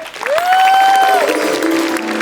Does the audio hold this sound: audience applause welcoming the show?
yes